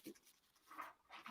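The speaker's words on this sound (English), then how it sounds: "You probably hear my puppy in the background." A puppy pants softly in the background of a kitchen, quick breathy puffs repeating over a short stretch with no talk.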